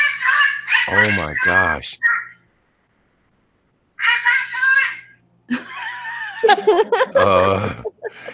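A bird squawks and chatters loudly in harsh bursts, with a pause between them, and a person reacts with speech.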